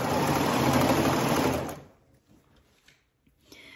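A sewing machine stitching around the cuffs of a pair of pants, a steady close whirring run of needle strokes for about a second and a half, then stopping into near silence with faint handling clicks.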